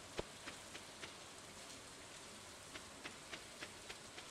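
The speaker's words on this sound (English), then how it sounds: "Welcome to the beach, where it is raining." Rain falls at the beach in Stardew Valley, a faint, even patter with soft, regularly spaced game tick sounds layered on top.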